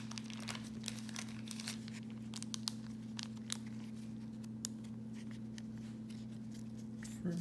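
A trading card slides out of a plastic sleeve with soft, close crinkling and brief scraping rustles, scattered sharp ticks over a steady low electrical hum.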